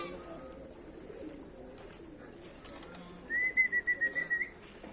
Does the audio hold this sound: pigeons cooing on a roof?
yes